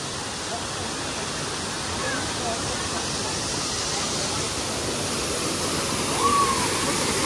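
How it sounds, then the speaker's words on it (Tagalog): Nangoloan Falls in San Felipe, Zambales, roars as a steady, dense rush of falling water, close and loud throughout, with no break in the broad hiss. "falls na to"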